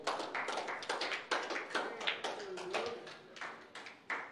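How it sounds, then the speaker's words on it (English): A church congregation clapping their hands in worship, a dense run of sharp, fairly steady claps at close range with a faint murmur of voices underneath. "Clap your hands to the Lord."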